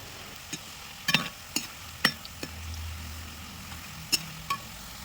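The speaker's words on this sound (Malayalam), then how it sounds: "അപ്പം ഇനി തൊലി കളഞ്ഞ ചേമ്പിനെ എണ്ണയിലേക്ക് സ്ലൈസ് ചെയ്തിട്ടെടുക്കാം." Peeled taro slices frying in hot oil for chips, a steady low sizzle broken by several sharp stirring clinks and scrapes spaced irregularly, close and fairly quiet with no talking.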